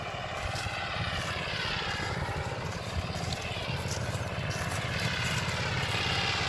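A plowing machine runs in a paddy field being prepared for rice, its engine droning steadily and loudly at close range throughout with no pauses.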